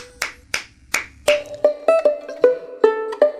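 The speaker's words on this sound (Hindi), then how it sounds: "ताली की आवाज" Hands clap about ten times in a quick, fairly even rhythm: close, crisp claps with a faint ringing tone under the later ones and no voices.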